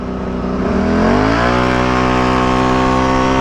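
A small Can-Am Renegade ATV engine fitted with nitrous revs up loudly and close, its pitch climbing over a second, then holding a high, steady buzzing whine.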